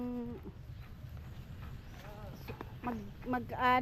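A carabao water buffalo on a farm makes low lowing calls close by, with voices talking over and between them.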